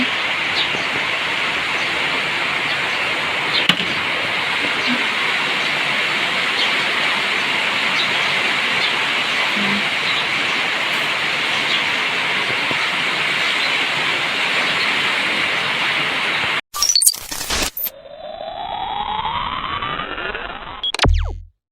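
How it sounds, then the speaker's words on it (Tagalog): Steady, dense rain hisses without a break for most of the stretch, then is cut by a few abrupt clattering, shifting noises near the end. "Umuulan po ngayon rito sa amin."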